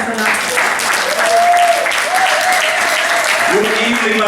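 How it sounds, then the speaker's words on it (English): Audience applause at a Liberian Independence Day event in a Zurich hotel, sustained crowd clapping with a voice speaking over it. "Please give a round of applause for Mr. Nasser."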